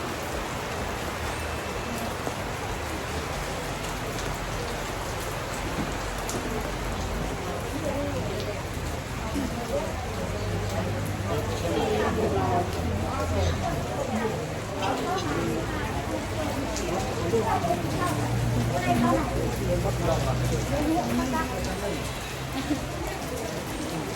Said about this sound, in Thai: ฝนตก ฝนตกหนัก